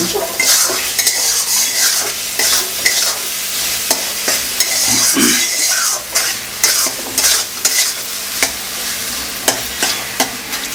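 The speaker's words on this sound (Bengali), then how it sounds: "ভালো করে ভেজে নেব মশলা চলে গেল এখন জাস্ট খুব সুন্দর করে এটাকে আগে কষানো হবে মশলাটাকে" Chicken being stir-fried with spice masala in a pan for chicken kosha, with loud continuous sizzling broken by frequent sharp spatula knocks and scrapes against the pan, close and busy, without speech.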